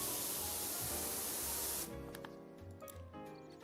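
PowerWash Simulator's pressure washer blasts a floor as a loud, steady hiss of spray that cuts off about halfway through, leaving quieter game sounds and faint clatter behind.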